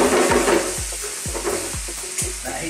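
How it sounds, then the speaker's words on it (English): Cream sauce for grilled lamb chops stirred vigorously in a pan over high heat, with a steady sizzle under about five rhythmic, scraping strokes of the spoon, close and fairly loud, no voices. "Now with cream, you have to keep stirring it quite vigorously."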